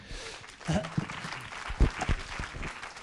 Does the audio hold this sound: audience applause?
yes